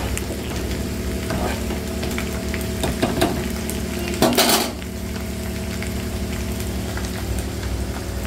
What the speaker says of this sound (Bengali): আর এখানে এই আলু ভাজাটা বসিয়েছি।